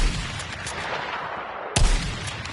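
Heavy gunfire from the Battlefield 6 video game: rumbling shots and a sharp loud blast near the end, with booming low reverberation and dense crackle throughout.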